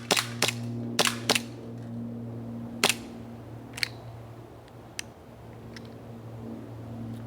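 Airsoft pistol shots from a WE M1911 or WE M92F, a quick burst of sharp cracks followed by a few scattered single shots over a steady engine-like hum.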